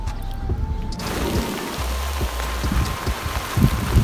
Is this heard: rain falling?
yes